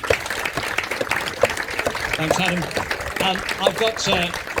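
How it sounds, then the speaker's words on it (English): Crowd applause at an agricultural show as livestock breeds parade past in the ring, a continuous wash of clapping heard under a man's amplified announcement. "So do give them a round of applause as they come past."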